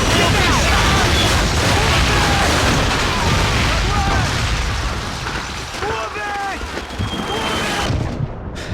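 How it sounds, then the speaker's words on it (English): Artillery shells burst in a battlefield scene from the Call of Duty: Finest Hour video game, a loud, continuous wall of booming rumble with voices shouting underneath. "You hear the incoming whistle of the artillery? The explosion will not be far off."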